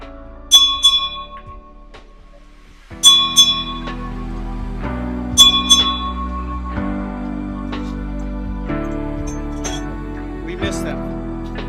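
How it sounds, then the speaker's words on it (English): A ship's bell aboard the restored vessel Ranger at the Santa Barbara Maritime Museum rings out in paired strikes, bright metallic clangs with long decaying ring, while a voice speaks quietly in the background. "I want to just pay tribute to them with 8 bells."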